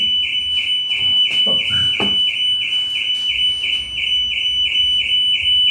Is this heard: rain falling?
no